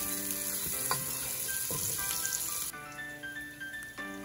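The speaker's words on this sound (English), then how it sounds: "Gonna give it a mix, make sure nothing is burning." Bak choy noodle soup ingredients sizzle and fry in a pot while being stirred, a soft steady crackle with occasional scraping clinks of the stirring, close and fairly quiet.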